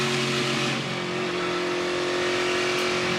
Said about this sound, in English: He's pretty good at burnouts, too.